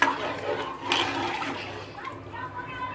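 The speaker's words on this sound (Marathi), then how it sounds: "आता हे पाणी ह्याच्यामध्ये टाकून घ्यायचं" Hot water pours and splashes into a pot over a few seconds, close by, with a voice and other talk faintly underneath.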